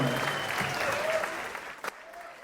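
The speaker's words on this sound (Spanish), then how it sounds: "Fuerte los aplausos." Concert audience in a theatre applauds at a live show, a steady wash of clapping that tapers toward the end, with faint talk mixed underneath.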